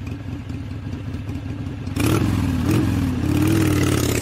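A motorcycle engine idles and then revs up sharply, rising in pitch and loudness with a couple of throttle swells and some clattery mechanical noise, with no talking.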